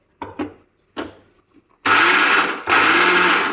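A mixer grinder roars loudly and steadily for nearly two seconds, pulverising garlic with chicken masala spices, after a few soft clunks and knocks from loading the jar.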